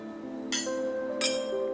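Two glasses clink together in a toast, two bright, short chimes about three quarters of a second apart, heard close against soft background music.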